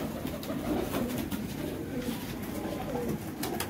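Black Tiger breed pigeons cooing in a loft, soft repeated low coos close by over a murmuring background of other birds, with no speech.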